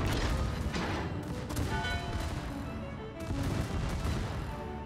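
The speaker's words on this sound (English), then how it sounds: "these secondary batteries are really just peppering away at this battleship" Battleship secondary battery guns fire in World of Warships, repeated heavy booming blasts in quick irregular succession with rumbling tails, loud and dense throughout.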